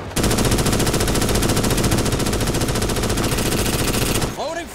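Sustained rapid automatic gunfire in the video game Starship Troopers Extermination, a loud, dense, unbroken burst lasting several seconds before cutting off into quieter game sounds.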